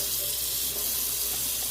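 Hot water gushes from a tap into a cast-iron skillet, a steady, close hiss of running water that holds without pause for under two seconds, with no voices.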